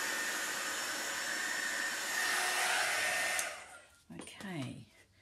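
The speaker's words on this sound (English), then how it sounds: "Just got my heat gun here. Just bursting some of those bubbles" A heat gun blows a steady loud hiss over wet acrylic pour paint, popping bubbles, then shuts off after about three and a half seconds, leaving a faint rustle and brief handling sounds.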